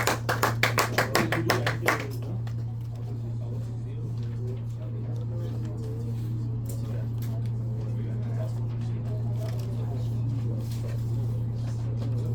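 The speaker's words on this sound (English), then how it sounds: "Shall we give Manny a round of applause?" A classroom gives a student a brief burst of rhythmic clapping, about ten quick claps over two seconds, then it fades to a quiet room with a steady low hum.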